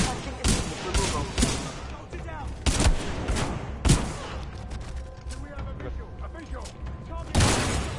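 Hitscan weapons in Titanfall 2 fire in sharp repeated bursts, single cracks and short volleys spread across the stretch, mixed with game sound effects and voices talking between shots.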